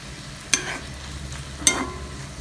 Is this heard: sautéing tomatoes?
yes